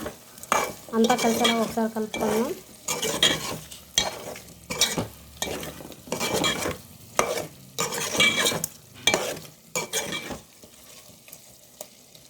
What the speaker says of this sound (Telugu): రుచికి సరిపడా కారం యాడ్ చేసుకుందాం. అంతా కలిసేలాగా ఒకసారి కలుపుకుందాం.